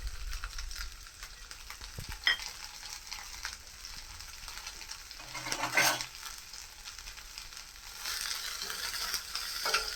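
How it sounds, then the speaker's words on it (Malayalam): Curry leaves, chopped shallots and green chillies sizzle and crackle steadily in hot oil for a brinjal theeyal, with a brief stirring scrape near the middle and a louder burst of spitting toward the end; no one talks. "കരിവേപ്പിലയും കൂടെ ഇട്ട് കൊടുക്കാം."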